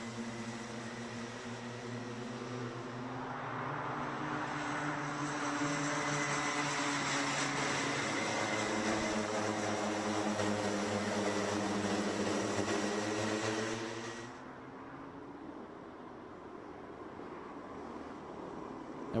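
Rotax Micro class racing karts at the start of a Euro Trophy heat in Genk, 2020: a loud pack of two-stroke engines swells and climbs together for several seconds, then drops away to a lower steady drone.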